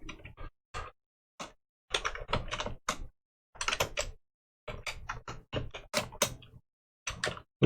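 Quick bursts of clicking keystrokes on a computer keyboard, close and crisp, arriving in irregular clusters separated by short silent pauses.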